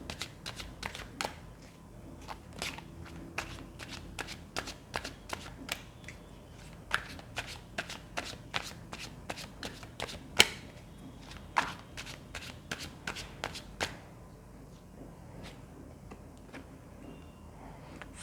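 Tarot cards shuffled by hand in a steady run of crisp riffling snaps and clicks, close and fairly quiet, continuing for most of the stretch with no talking.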